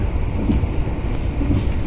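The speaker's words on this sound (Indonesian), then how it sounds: "akhirnya kereta melewati sungai" Executive-class passenger train running from Jakarta to Malang, a steady close rumble of wheels on rails with a continuous low drone and faint rhythmic knocks, no voices.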